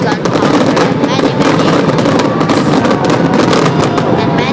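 Firework explosions in Minecraft, from big-ball and star rockets, crackle and boom densely and continuously at close range, with loud overlapping bursts throughout.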